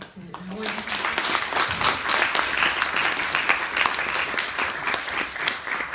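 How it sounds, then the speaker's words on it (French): Audience applause at a public debate on drugs and sex work, dense steady clapping that rises quickly and holds for several seconds, with a voice speaking briefly at the start. "Merci beaucoup aux intervenants de la première séquence, on peut les applaudir"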